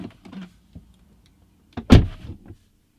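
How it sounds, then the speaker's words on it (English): A Tesla Model 3 car door opening and closing to power the vehicle back on: a few soft clicks and latch sounds, then a firm, close door thud near the end. "now open and close the door to power the vehicle back on"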